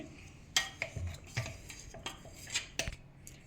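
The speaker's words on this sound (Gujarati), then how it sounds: "હવે આપણે આમાં આપણે જે તલ લીધા હતા અને ગોળ લીધો તો આમાં મિક્સ કરી દઈશું આપણે આવી રીતે" Sesame seeds and jaggery are mixed with crushed edible gum in a plate, giving scattered close scrapes and clinks of a spoon against the plate in an uneven rhythm, fairly quiet.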